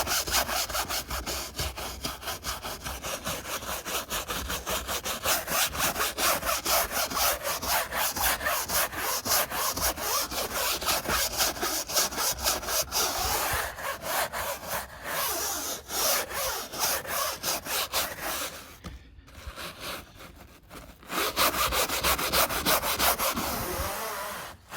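Continuous rapid abrasive grinding from a drill sanding attachment working on gelcoat, loud and close, running steadily with a short pause near the end before resuming.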